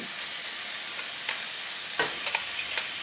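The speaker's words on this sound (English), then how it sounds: "I want to quickly sort of saute or fry up these here" Oil-coated shrimp fry in a hot, dry saucepan for a Caribbean coconut stew, giving a steady hissing sizzle with a few sharp pops and crackles, close and constant.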